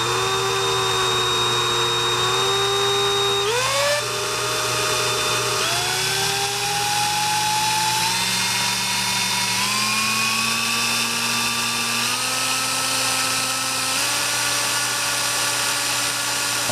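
Rivett 1020F lathe running steadily in second gear, a continuous machine whine whose pitch climbs in several stepped jumps as the speed rises, loud and close with no talking.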